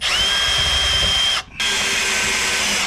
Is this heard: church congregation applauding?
no